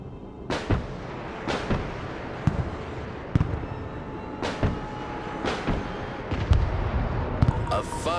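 Anti-aircraft weapons fire in the video game Broken Arrow, with a series of sharp booming reports spaced about a second apart over a rumbling battle background, loud and close.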